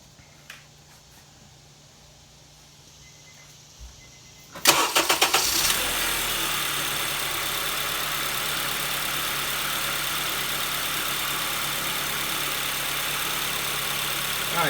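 A Honda car engine cranks and starts after a belt and tensioner replacement, with a few sharp sputtering catches before settling into a steady, loud, close idle that drones on alone.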